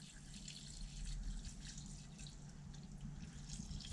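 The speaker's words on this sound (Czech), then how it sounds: "a hned to zaleju tadyhle vroucí vodou" Hot water poured over meat in a pot for Czech Szeged goulash: a soft, continuous trickling and splashing stream, quiet and close, with no talking.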